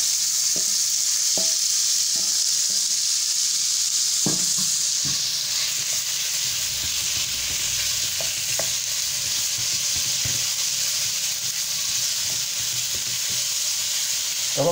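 Chicken pieces frying in a pan on a tawa, with a steady loud sizzle and hiss throughout and occasional scrapes and knocks of a spoon as they are stirred, no voices.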